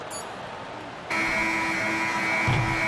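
The end-of-quarter buzzer in NBA 2K25 blares as one loud, sustained electronic tone that cuts in sharply and holds, with arena crowd noise swelling underneath.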